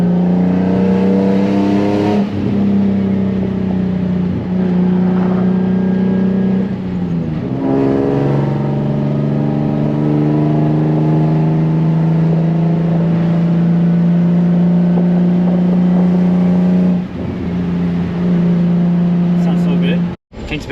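A Nissan 350Z with a built turbo engine holds a loud, steady drone close by, with a few rises and dips in revs as it drives, ending in a brief cutoff.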